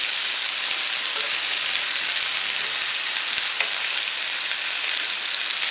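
Meatballs frying in a pan for Mongolian meatball ramen make a loud, steady sizzle and crackle throughout, with a few faint clicks of tongs and no talking.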